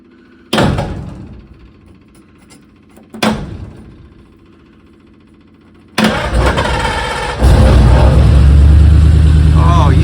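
An abandoned Eliza 40 car, left sitting for 56 years and rusty, cranks in two short bursts, then catches and starts, settling into a loud, steady idle close by.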